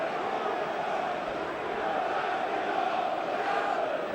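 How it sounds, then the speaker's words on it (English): A football crowd roars at Gillingham v Aston Villa in the 2008/09 FA Cup: a dense, steady wash of many voices cheering from the stands, loud and unbroken throughout. "The crowd are getting behind them."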